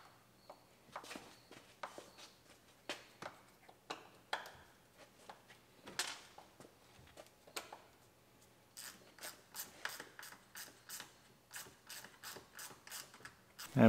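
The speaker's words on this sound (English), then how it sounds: "Take our screws out." Screws come out of the roof trim on a rusty Chevrolet during windshield removal, with irregular close ratcheting clicks and scrapes. A quick, regular run of clicks follows near the end, with no voices.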